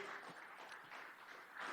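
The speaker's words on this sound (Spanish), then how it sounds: "Dele fuerte esa ofrenda de palmas al Señor." A church congregation claps together in an offering of applause during a Spanish-language sermon, a faint, steady patter of many hands continuing without a break and heard alone.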